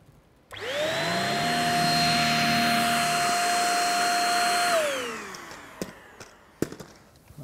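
A Dyson V6 cordless stick vacuum with two-tier cyclones whirs up sharply, holds a loud steady high-pitched motor whine for several seconds on a hard floor picking up fine dust, then winds down, followed by a few sharp knocks.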